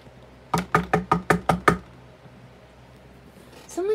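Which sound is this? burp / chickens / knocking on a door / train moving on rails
knocking on a door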